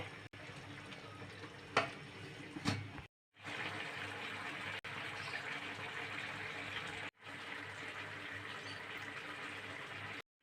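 Water goes into a cooking pot of echor chingri curry with raw jackfruit and prawns, making a steady, moderately quiet rushing pour in several stretches separated by brief gaps, with a couple of faint clatters near the start.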